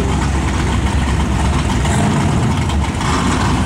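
A 1998 Honda Civic and a Nissan 240SX with a 2.4-litre twin-cam engine idle side by side at a drag strip start line, a loud, steady low rumble that holds without a break.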